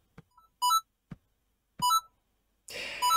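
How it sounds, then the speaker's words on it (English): Super Mario Bros coin chime recreated as Arduino tone beeps, heard as two quick rising two-note blips, then a louder burst of noise with one more blip near the end. Short pulses of sound mark the gaps between the blips. "the coin sound sounds something like this"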